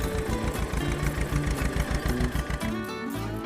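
Cartoon tractor engine putters steadily in a fast, even chugging rhythm, loud and close, running alone with no voices over it.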